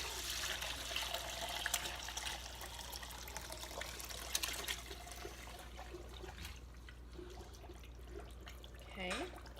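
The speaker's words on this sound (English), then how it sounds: "I take a stainless steel bowl and a colander, and I'm going to gently strain it out." Turkey bone broth is poured through a colander into a stainless steel bowl, giving a soft continuous trickle and splash of liquid, faint and close, with small clinks toward the end.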